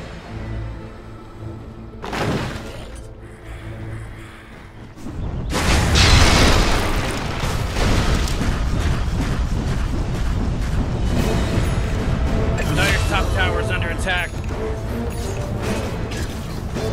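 Dota 2 tower being destroyed during an All Random match with Huskar, a dense, loud wash of explosive booms and bursts that swells sharply and then rumbles on steadily for many seconds amid clattering game mechanisms.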